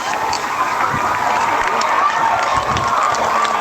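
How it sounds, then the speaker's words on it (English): Home fans of Thayer at a high school football game give light applause and cheering, a steady crowd wash with scattered claps heard from a distance. "A little round of applause from the Thayer faithful."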